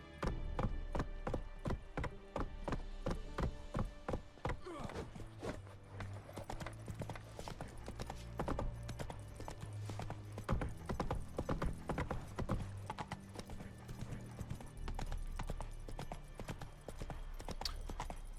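Galloping horse hooves in The Witcher 3 beat out a fast, continuous clip-clop close by, over a low rumbling game background, with no talking.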